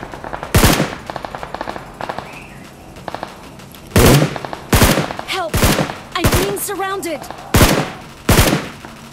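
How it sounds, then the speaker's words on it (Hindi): Bursts of automatic gunfire in the BGMI mobile battle royale game, several loud sharp volleys spaced a second or two apart, with fainter shots between them and no talk. "दूर से फायरिंग करेंगे"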